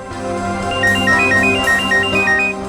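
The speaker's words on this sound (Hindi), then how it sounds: "सर निखिल का फोन।" A phone ringtone plays loudly and close, a repeating electronic melody of bright tones over a sustained chord.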